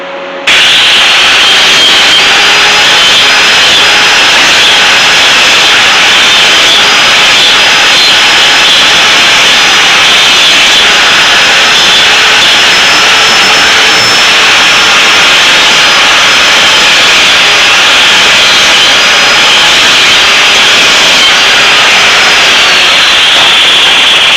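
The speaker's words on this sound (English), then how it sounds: "So I'm going to go and just grind a chamfer on it." A grinder bites into a metal part to cut a chamfer during a Honda 200S GY6 conversion build, giving a loud, steady, high-pitched whine and hiss that runs unbroken and close for the whole stretch, alone without speech.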